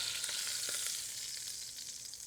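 Bottom round beef sears in a hot pan, giving a steady, bright sizzling hiss with faint crackles throughout, close and with no voices.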